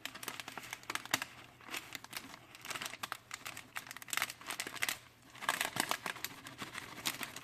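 Parchment paper filled with flour and salt is handled up close, giving a continuous run of soft crinkling and rustling with small sharp crackles throughout.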